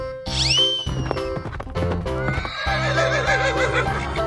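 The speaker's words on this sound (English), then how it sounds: "Horse." A horse neighs with a rising-then-falling whinny over the constant background music of a 3D animal slide game, loud and close, followed by thumping game effects.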